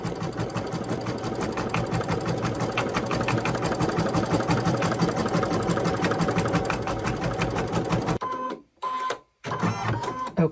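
An embroidery machine stitches appliqué placement lines for a tail, a steady fast mechanical whirring with rhythmic needle clatter that runs loud and continuously, then stops abruptly near the end with brief bursts of motor sound after.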